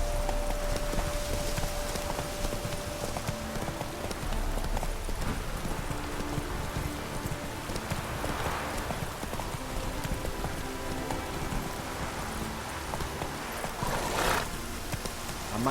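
Roach the horse gallops in The Witcher 3 video game, its hooves making a steady, rapid clip-clop over a soft outdoor ambience.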